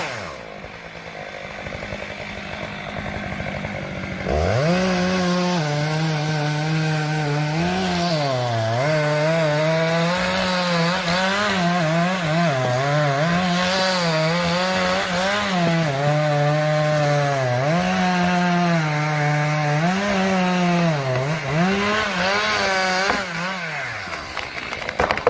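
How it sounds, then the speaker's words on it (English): A chainsaw cuts into a large tree trunk near a rocky cliff edge, its engine roaring loud and close for about twenty seconds with rising and falling pitch as it bites into the wood. "a worker carefully used a chainsaw to cut into a large tree trunk"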